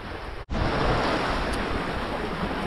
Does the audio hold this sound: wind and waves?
yes